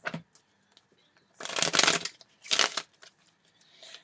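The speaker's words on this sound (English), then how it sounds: "It's a lot of cards flying out." Tarot cards riffled and shuffled by hand in two quick, crisp bursts of papery flutter, close and fairly loud, separated by short quiet gaps with a faint rustle at the end.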